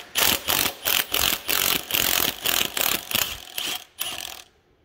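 A ratchet wrench loosening a dry, slightly rusty bolt on a Caterpillar RD-4 engine, about a dozen quick ratcheting bursts in an even rhythm, close and clear, ending with a last shorter turn.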